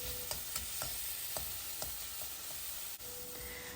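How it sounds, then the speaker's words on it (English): Grated garlic and ginger sauté in a pan, a soft, steady sizzle with light, irregular clicks and taps from stirring, heard close and alone. "and just saute it for a minute"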